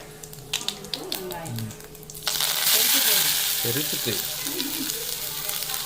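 Cumin seeds crackle and sizzle loudly in hot oil for tempering after a few sharp taps, with a voice talking in Tamil over the frying.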